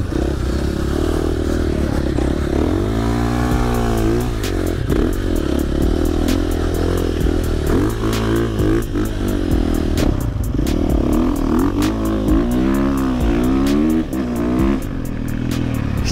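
Dirt bike riding through desert sand dunes near Dubai, its engine droning and revving up and down close by with a rattling, buzzing tone that rises and falls continuously without pause.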